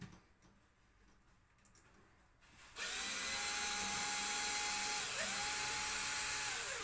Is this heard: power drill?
yes